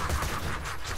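Dense, sustained gunfire from a Borderlands 2 co-op firefight, a loud continuous barrage of rapid shots filling the whole moment without any voices over it.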